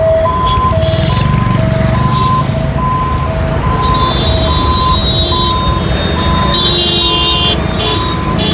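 Road traffic streams past a crossing in Gurgaon on a green light, a loud continuous roar of engines close by, with a repeating electronic chime and occasional horn toots over it.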